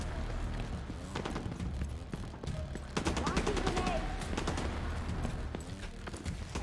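Gunfire aimed at the player in the video game Tom Clancy's The Division 2, rapid bursts of sharp shots cracking in quick clusters, fairly loud and near, with a voice speaking over them.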